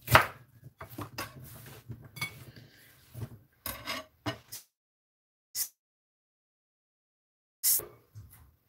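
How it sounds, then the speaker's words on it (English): Knife chopping vegetables for a smoothie on a cutting board in quick irregular strokes, close up, then a pause with a few isolated scrapes and taps. "I'm going to chop them so that my blender"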